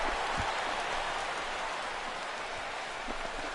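Steady rain hisses over a baseball field in MLB The Show 16, a dense, even wash of droplets filling the whole stretch with no voices.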